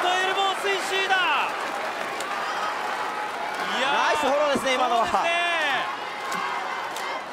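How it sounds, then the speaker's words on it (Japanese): A pro wrestling crowd at a NOAH show cheers loudly for Hirayanagi, a sustained roar with whistles and shouts that swells midway, under two commentators talking. "平柳に大声援が送られている"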